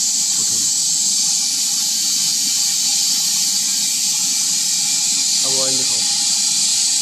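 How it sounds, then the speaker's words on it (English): Compressed air regulated to about 1 bar hisses steadily and loudly into a pneumatic oil extractor tank, a continuous high rush lasting throughout with a brief low knock midway. "after opening the compressed air, we have to regulate the pressure up to"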